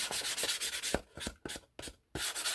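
A rough edge on a personal journal is rubbed and sanded smooth by hand, giving close, rapid scratchy strokes in quick rhythmic bursts with brief pauses in between, and no talking.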